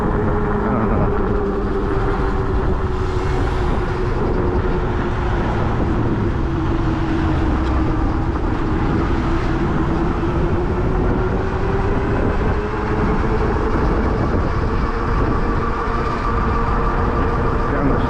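Super 73 R electric bike motor running on Shinko SR244 dual sport tires, a continuous droning whine with a slowly shifting pitch under steady road rumble for the full length, no speech.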